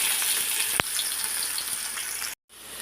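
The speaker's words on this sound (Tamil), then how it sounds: "நல்லா வெங்காயம் கொஞ்சம் நேரம் வதங்க விட்டுக்கலாம்." Steady sizzling of onions frying in oil in a pan, continuous and close, with one brief clack and a momentary cut to silence near the end.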